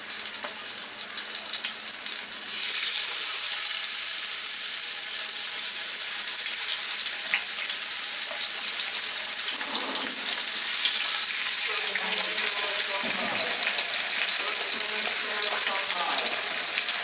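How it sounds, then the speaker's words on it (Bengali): Pieces of rohu fish coated with turmeric and salt sizzle in hot oil, a loud, steady, close-up frying hiss that runs without a break, with a few soft stirring or turning noises partway through. "একটু হলুদের গুঁড়া দিয়ে দিই, দিয়ে আর একটু লবণ দিয়ে এটাকে মেখে আমার নিচের তেলটার মধ্যে ভেজে নিব।"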